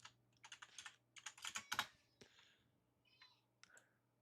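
Someone types on a computer keyboard in a quiet room, with irregular bursts of close, crisp key clicks and brief pauses between them, plus a low steady hum underneath.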